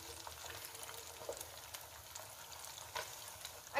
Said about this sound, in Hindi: हमने इसको बिल्कुल स्लो आंच पर फ्राई करना है।